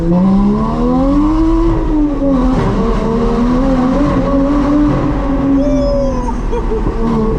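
A Porsche Boxster fitted with an aftermarket exhaust line accelerates hard, its loud raspy engine note rising and falling through the revs, close and continuous with no talk over it.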